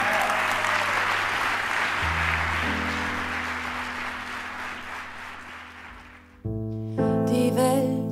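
An audience at a live concert applauds to welcome a singer on stage, a loud, sustained wash of clapping that slowly fades as a low musical drone enters, then the band starts playing at the end.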